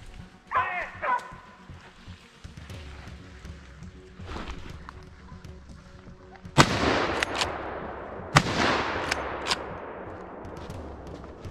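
Hunting dogs bark and yelp during a driven hunt for roe deer and wild boar in Belgian woodland, with several sharp yips early on and louder, nearer bursts of barking later over faint rustling and distant voices.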